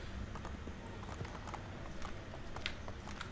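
Horse hooves clatter quickly and continuously in Assassin's Creed 3, a steady galloping patter heard faintly within dense game ambience, with no voices over it.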